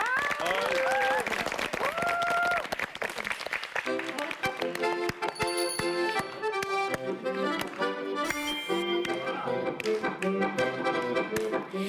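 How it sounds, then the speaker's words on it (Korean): A studio audience claps to welcome an accordion performance on a Korean TV show, with a host talking over the start. The applause is loud and continuous, then music comes in and carries on beneath the clapping. "네, 박수로 맞이해주시죠."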